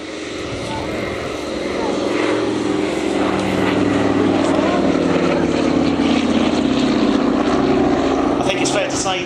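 A Douglas DC-3 propeller airliner drones past at the 2010 Cotswold Airshow, its loud, steady engine rumble building and holding while a voice talks over it.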